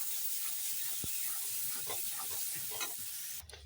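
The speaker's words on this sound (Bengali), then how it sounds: "একটু দিয়ে দেবো লঙ্কার গুঁড়ো ঝাল মতো দিয়ে ভালো করে কষিয়ে নিচ্ছি" Masala with chili powder and sugar sizzles as it fries for ghugni, a steady close hiss with a few soft stirring scrapes and a brief knock.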